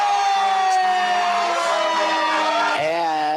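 Fire engine siren from a fire truck leading a Christmas parade, a loud sustained wail with stacked harmonics that dips and rises again near the end, heard up close throughout.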